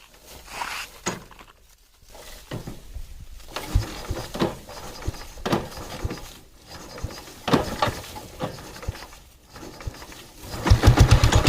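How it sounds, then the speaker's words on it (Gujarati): A Royal Enfield Bullet motorcycle engine putters with a rapid, uneven thumping that swells and fades several times, nearby and fairly loud. "બુલેટ સ્ટાર્ટ થઈ ગઈ"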